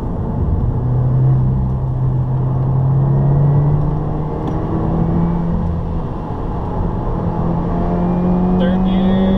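A 2015 Subaru WRX engine pulls steadily in third gear, a continuous close in-cabin drone with a rising, then briefly dipping and climbing engine tone and road rumble throughout.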